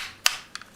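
The head of a Takara Tomy Transformers Masterpiece MP-29 Shockwave toy locks into place with one crisp plastic click, followed by a few faint small ticks and rubs close up.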